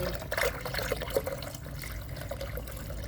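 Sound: water being poured into azolla growing container

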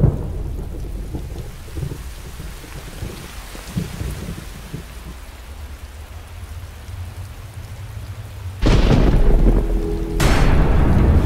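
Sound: thunderstorm with thunder and rain

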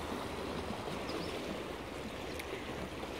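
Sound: river water rushing over rocks at Lourdes

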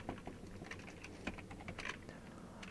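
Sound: typing on a computer keyboard

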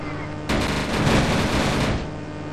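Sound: gunfire from an aircraft in a video game

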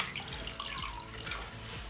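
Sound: water draining from soaked orchids hung on tap

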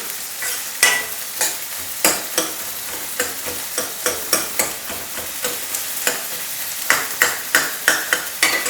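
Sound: chopped onions frying for palak dal

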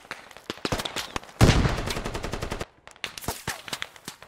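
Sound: machine gun fire from a squad shooter video game

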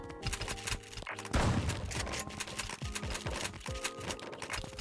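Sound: gunshots in the video game 1v1.lol

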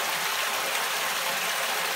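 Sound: water flowing through a homemade fleece prefilter into an aquarium

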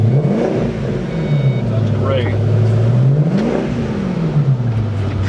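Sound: 2005 Ford Mustang Roush GT engine revving

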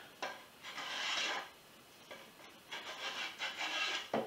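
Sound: Veritas spokeshave shaving wood for a canoe seat

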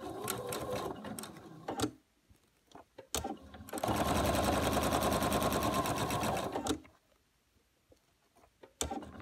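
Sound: sewing machine sewing a quarter-inch seam on fabric

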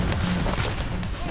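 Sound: gunfire in the video game Payday: The Heist

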